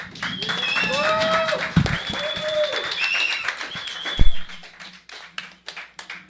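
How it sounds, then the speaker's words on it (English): Audience at a live club music night clapping for a band's premiere, scattered applause with a few sharp claps, mixed with whistles or synth tones and crowd noise, fading over about six seconds. "Please give them a big round of applause"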